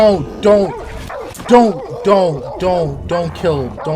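A dog in an episode of The Last of Us gives a rapid series of yelping barks and whimpers, close and loud, with speech mixed in.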